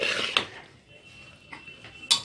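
A spoon clinks and scrapes against a pot as pulao with peas, paneer, spices and ghee is mixed, with a few sharp metallic taps over quiet stirring.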